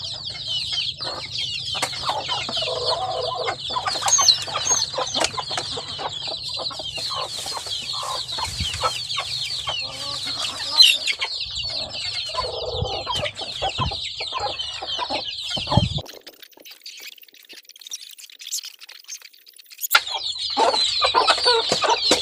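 Chickens cluck and murmur near their nest of eggs on a Filipino backyard farm, a close, continuous chorus of soft clucks and higher calls, briefly quieting to near silence before resuming.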